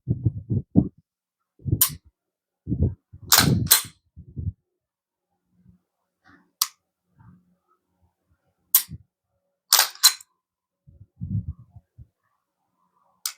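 A factory trigger on a Springfield XD-M 9mm 3.8-inch pistol is dry-fired, giving several sharp, isolated clicks of the trigger breaking and resetting, close and clear over near silence, with soft handling noises between.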